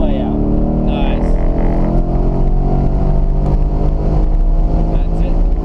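A race car on a track at full throttle, its engine roaring loud and steady with a continuous rising drone close by, while a driving coach talks over it.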